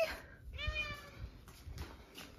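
A house cat gives a clear meow, up close and fairly quiet, followed by a few softer short mews, with a person's faint background sounds in a home.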